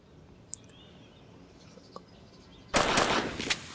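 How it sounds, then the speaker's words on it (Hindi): Quiet at first with a few faint clicks, then a sudden burst of rapid, loud gunfire in the video game Granny that continues to the end. "ओके दोनों गोलियां चला दी भाई"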